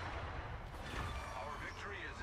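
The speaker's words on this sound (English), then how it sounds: "just enjoy seeing these really accurate guns continue to put a hurt on the" Battlecruiser St. Vincent's big naval guns firing in a warship game, a dull low rumble of artillery rolling under continuous talk, fairly quiet overall.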